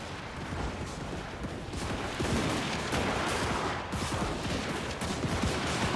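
Rolling artillery and gunpowder volleys from Empire cannons in Total War: Warhammer 2, a dense barrage of overlapping booms and cracks continuing steadily at mid distance under battle ambience.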